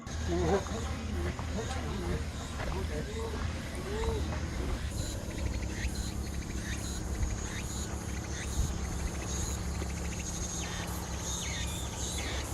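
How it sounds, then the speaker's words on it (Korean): Cicadas on a summer hillside trail on Manjido island near Tongyeong, South Korea, keep up a steady high-pitched drone throughout, with a voice and footsteps nearby over it. "매미 소리가 우렁차네요."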